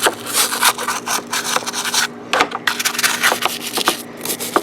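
Brush scrubbing corroded car battery posts, terminals and vents with Gunk battery cleaner, a loud close bristly rasping in quick rapid strokes with one brief pause partway through, heard alone.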